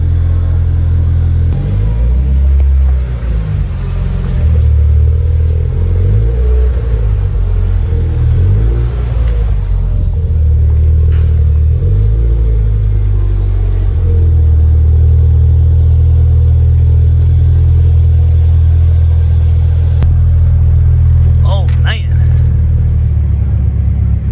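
A 2022 Subaru BRZ fitted with an HKS Spec-L catback exhaust revs repeatedly, its deep, close engine and exhaust note rising and falling in blips before settling into a steady idle rumble, with no talking.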